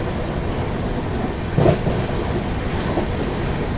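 The Vande Bharat Express passes on the crossing track beside a moving Indian train, a loud, continuous rolling rumble with one brief swell of rattling in the middle.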